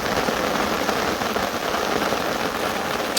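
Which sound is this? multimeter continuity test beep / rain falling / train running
rain falling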